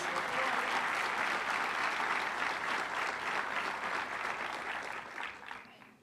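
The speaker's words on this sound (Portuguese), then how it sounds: "Aplauda o Senhor Jesus mais uma vez." A church congregation applauding during a service, loud sustained clapping from many people that holds steady, then tapers away near the end.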